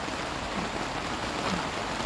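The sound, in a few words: heavy rain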